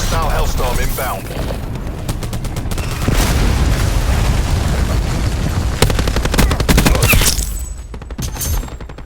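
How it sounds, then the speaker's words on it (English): A Hellstorm missile strike and gunfire in Call of Duty give dense, loud game combat, with bursts of automatic fire and heavy booms running continuously, thinning out near the end. "Hostile Hellstorm inbound."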